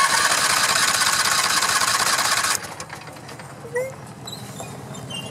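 An old zero-turn mower with a newer customized engine, jump-started at the solenoid, cranks over with a loud, fast mechanical churning that stops abruptly halfway, leaving quieter background noise.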